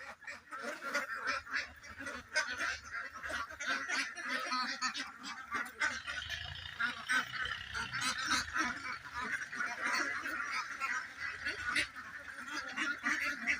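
A flock of ducks on a duck farm, steady overlapping honks and quacks forming a busy, fairly faint chorus throughout, with a voice briefly audible underneath.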